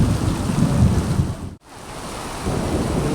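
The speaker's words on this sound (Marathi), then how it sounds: "विजा चमकताना गडगडाट चालू आहे ना" Steady heavy rain roars with a low rumble of thunder and lightning in Bhiwandi, briefly dropping out mid-clip before the downpour resumes.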